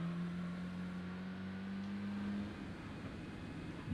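A turbocharged race car engine in Gran Turismo 3 drones at a steady held pitch, then drops and shifts near the end. No one talks.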